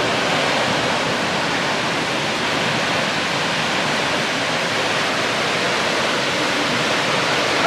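Steady, loud rush of a tall waterfall at Lake Sebu, a continuous broadband roar of falling water filling the whole stretch with no voices over it.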